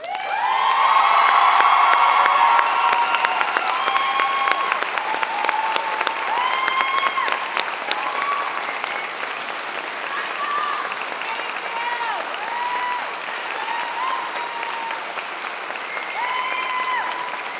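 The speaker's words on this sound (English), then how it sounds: "Graduates, a round of applause," Graduates at a spring convocation ceremony applauding standing faculty, a loud sustained wash of clapping in a large hall with cheers and whoops rising early, then settling into steady applause.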